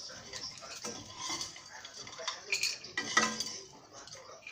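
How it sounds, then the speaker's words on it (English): Freshly made flavoured popcorn tipped onto a plate in a home kitchen, a run of light rattling clinks and ticks with a few sharper clatters near the end. "Again I am also placing it in a plate."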